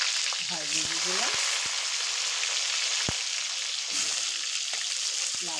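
Salted pointed gourd frying in oil in a kadai, a continuous close sizzle and crackle with a few sharp spatters and utensil taps, no talking.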